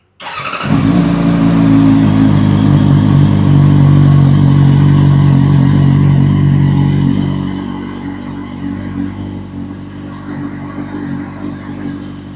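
A CFMoto 750SR-S motorcycle held in neutral, the engine firing up and revving loud and close in a sustained roar for several seconds before settling back to a lower idle.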